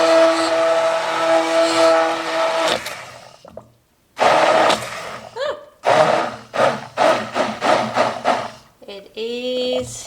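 A glass jar blender purees baked potato soup with a loud, steady motor whine that cuts out, then returns in several short pulsing bursts before a final spin-up.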